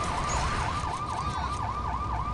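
A police car siren in a LEGO City video game wails, sweeping up and down in steady, regular cycles over a constant engine rumble, loud and close.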